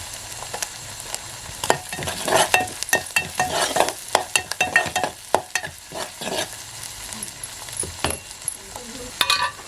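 Spiced masala paste sizzles and fries steadily in a pan for a river (khadas) fish curry, with repeated stirring scrapes and clatter over a continuous crackle. The cooking is close and moderately loud, with no talk.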